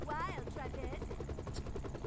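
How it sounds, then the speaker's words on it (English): Helicopter rotor chopping in the video game No More Heroes 2, a steady rhythmic thrum heard under a speaking voice. "But now they have a helicopter?"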